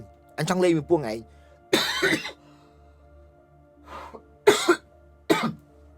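Several separate coughs and throat-clearing bursts spread over a few seconds, close and fairly loud, with a voiced sound mixed in.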